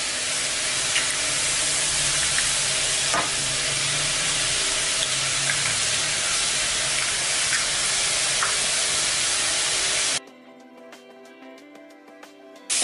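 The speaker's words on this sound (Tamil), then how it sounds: "2 முட்டையை உடைச்சி ஊற்றிக்குவோம்" Two eggs fry in about two teaspoons of oil in a home kitchen pan, giving a steady loud hiss and sizzle for about ten seconds before dropping to quiet faint clatter.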